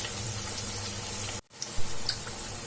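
Evening snacks deep-fry in oil over a medium flame with a steady, close bubbling sizzle. It cuts out briefly midway, then resumes with a few louder pops.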